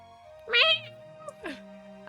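A cat meow sound effect plays as a stream redeem: two distinct, close, clear meows, the first longer and rising, the second shorter, over a quiet background hum.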